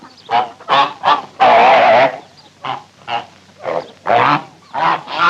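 Ducks honk loudly and close by, a sick-sounding flock giving a rapid series of harsh nasal calls in uneven bursts, one call drawn out longer, with no talk.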